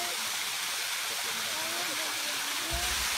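Water falling in a creek rushes in a steady, broad hiss, close and continuous, with a faint voice murmuring underneath.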